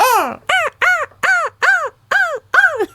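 A person imitating a seagull in a live gull-call competition gives seven loud, repeated squawking cries in a steady rhythm, close and clear with short pauses between.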